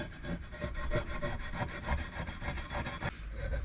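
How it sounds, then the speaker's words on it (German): Abrasive fleece scrubs the engine sealing surfaces of an Opel Corsa Z12XEP/Z14XEP, a steady rhythmic back-and-forth rasping that is close and fairly quiet, with no talking. "mit Schleifvlies gehe ich jetzt nochmal über die Dichtflächen"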